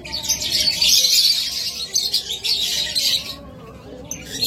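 Pet birds in a cage, lovebirds, budgerigars or cockatiels, give a dense, continuous twittering of high chirps that stays loud and close and thins out near the end.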